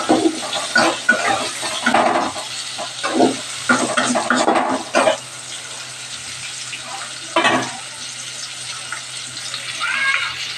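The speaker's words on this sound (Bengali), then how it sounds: "আলু আর পেঁয়াজটা একটু ভেজে নেব।" Potatoes and onions fry together in a pan in a home kitchen, giving an irregular sizzle with bursts of stirring and scraping, close by, then quieter stretches of gentle frying.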